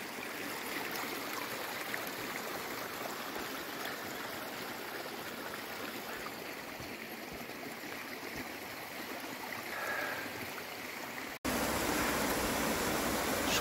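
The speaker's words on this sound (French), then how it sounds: "juste en bas, il y a un ruisseau" A babbling stream just below a walking trail on the Camino francés GR65 flows in a steady, rushing wash of water, close and continuous, with no voices.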